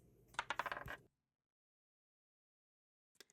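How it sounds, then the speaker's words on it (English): Dice tumble and clatter across a gaming table in one quick burst of rattling hits, then a long silence before a couple of faint clicks at the end. "Let's roll some dice."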